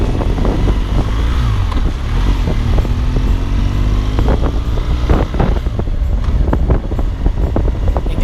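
Riding a motorcycle with heavy wind buffeting the microphone, engine rumble rising and shifting beneath loud, constant wind roar.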